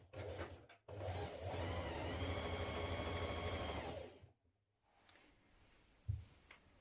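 A home sewing machine runs in one steady burst of about three seconds, stitching sleeve seams on a boho-style dress, then stops, followed by faint handling sounds.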